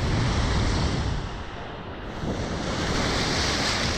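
Rough sea waves crash and wash continuously at Playa Mamitas beach in Akumal, a loud, broad roar of surf mixed with wind buffeting the microphone, with no voices.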